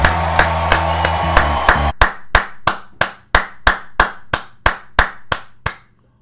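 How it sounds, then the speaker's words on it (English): One person claps steadily while watching a stand-up comedy special, about fifteen sharp, close claps in an even rhythm. The first few land over background sound from the show, and the rest ring out alone in a quiet room. "Why am I clapping on the screen?"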